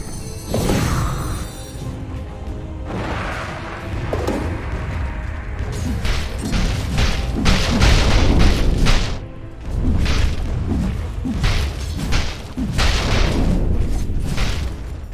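Dota 2 tower under attack in a match, loud booming impacts, crashes and whooshes packed densely together, a constant chaotic barrage of battle effects with no speech.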